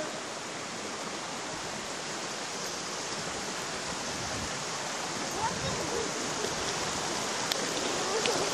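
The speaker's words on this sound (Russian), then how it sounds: "А вот речка." A forest river rushes in a steady, broadband wash of flowing water, close and continuous throughout with no clear pauses.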